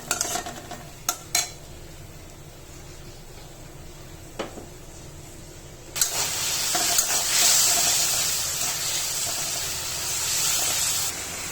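Spice masala sautéing in a pan with a piece of tomato and a splash of water starts as a low, quiet simmer with a few knocks, then erupts into a loud hissing sizzle with steam.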